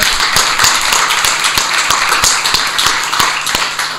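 An audience at an aviation symposium claps for a moment, loud close hand claps standing out at a fairly regular pace over a continuous bed of room noise.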